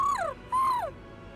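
Hootle, a small owl-like creature in Tales of Arise, gives two falling whistled calls, the second longer and louder, close by against a quiet game backdrop.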